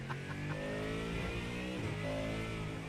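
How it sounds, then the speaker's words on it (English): A race car engine in the iRacing video game, heard from the cockpit as a steady, droning mid-pitched engine note that rises and dips slightly under throttle, with no talking. "the car does sound really good compared to, for example, like the Vet"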